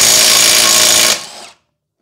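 Milwaukee FIWF12 cordless impact wrench in reverse at setting 3, loosening a wheel lug bolt: one loud, close, continuous hammering burst that stops abruptly and winds down to silence.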